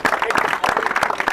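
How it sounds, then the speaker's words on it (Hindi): A group claps for Devraj, who has been selected for the Indian Army. The quick, uneven clapping is brief and close, with voices mixed in. "देवराज के लिए तालियां सब"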